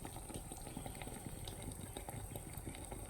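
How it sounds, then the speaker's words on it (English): Air bubbles escape from the coils of a guitar neck pickup sunk in liquid, making a faint, steady fizzing and bubbling with no voices. "As you can see, those bubbles leaving. That's just the air in between the coils."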